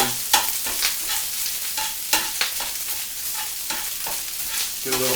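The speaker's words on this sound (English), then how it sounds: "Medium heat. You break up all them rice balls." Rice balls are broken up and stirred in a pan over medium heat, giving a steady oily sizzle punctuated by repeated scraping and clacking strokes of a utensil, close and fairly loud, with no talking.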